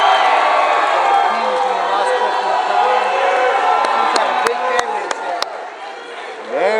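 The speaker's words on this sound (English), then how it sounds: "This really brought a huge crowd today." A large crowd roars and cheers at a wrestling championship match, a loud sustained wash of voices with whoops and shouts and a few sharp claps or thumps near the end.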